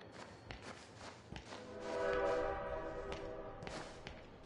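A train horn sounds in the Bendy and the Dark Revival video game, a sustained harmonic blast swelling around the middle over a busy mix of footsteps and game noise, moderately loud and fairly near.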